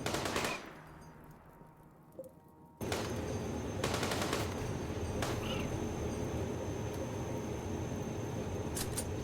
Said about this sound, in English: They are shooting my Roomba.